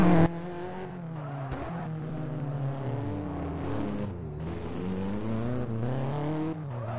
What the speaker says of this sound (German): jetzt sehen wir auch mal, wie die hier aus dieser Garage raus auf die Strecke fahren